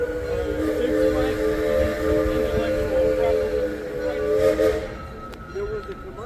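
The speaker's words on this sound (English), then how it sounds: "There goes the train." An amusement park train at Six Flags Over Texas rolls past with a steady, fairly loud steam whistle tone over rumbling background noise, fading near the end.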